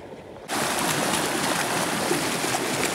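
Irrigation water rushing through a channel onto farmland starts abruptly after a brief quiet moment, then pours in a steady, loud, close-up gushing flow.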